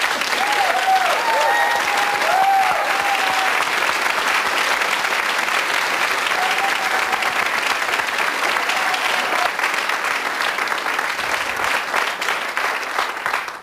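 Sustained audience applause on a Czech television talk show honoring a film director, thick even clapping from a large crowd with faint voices briefly audible beneath.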